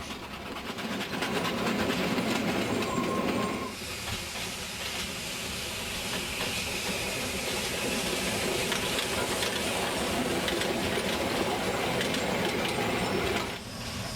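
An 1877 Winton narrow-gauge steam locomotive with a vertical boiler, heard as a steady loud hiss and chuffing rumble running nearly throughout, with a brief change in tone partway and no talking.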